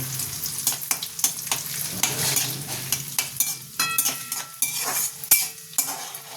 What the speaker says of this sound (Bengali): কিশমিশটা আমি বেশি লাল করে ভাজবো না